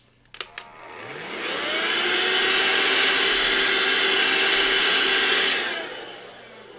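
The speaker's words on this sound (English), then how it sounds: "let me vacuum that" A vacuum cleaner switches on after a couple of sharp clicks and runs with a steady, loud whooshing roar for about four seconds, then winds down, all without talk, while pastel painting is underway.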